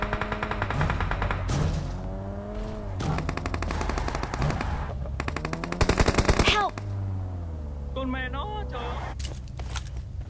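Video game gunfire with a rapid automatic burst and scattered shots, heard over revving car engine sweeps while a person talks excitedly throughout.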